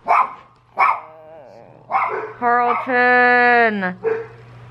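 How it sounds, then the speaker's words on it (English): A dog barks sharply a few times close by, then lets out a long, drawn-out whining howl before one more short bark. "Carlton barks at like Bruiser barks at a lot"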